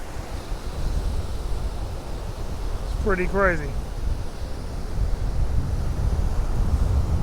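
Strong wind roars across the microphone on Cromer Beach while waves crash and hiss steadily, with someone speaking briefly partway through.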